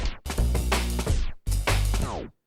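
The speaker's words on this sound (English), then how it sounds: "Now if I turn it all the way and close it, it'll instantly play and stop." Pioneer CDJ-3000 set to instant play and stop in turntable start-stop style: loud full-range music bursts cut abruptly to silence, three short chunks with sharp starts and hard stops, no talk.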